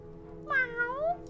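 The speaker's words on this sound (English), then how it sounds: "Meow." A single drawn-out cat meow in the video game Fallout: New Vegas, with a rising then falling pitch, close and fairly clear over a low steady hum.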